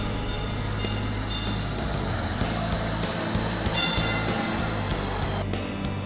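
St. Louis metro train at a heated, well-lit station, a steady low rumble of the cars with metallic clinks, faint squeals and a brief clatter, heard without talk.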